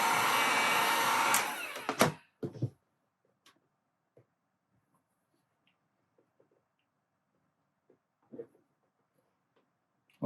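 A heat gun blows hot air onto vinyl wrap on a Streamline RC Thrasher jet boat hull, a close, loud whooshing roar for about two seconds that cuts off, followed by faint handling taps.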